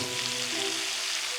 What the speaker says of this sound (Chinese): 好，我们把锅盖再盖回去， 再煎4分钟。